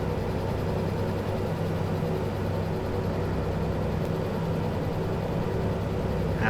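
Steady, low, droning rumble of a train locomotive engine under constant throttle in the game Derail Valley, holding level throughout with no voices.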